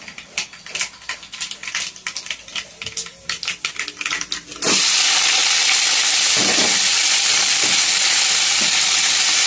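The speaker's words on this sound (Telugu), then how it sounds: "మనం ఇప్పుడు చేసుకుంటాం బంగాళదుంపల ముక్కలు" Potato pieces drop into hot oil with spice tempering after a stretch of light tapping and clicks, erupting into a loud, continuous sizzle that stays dense and close.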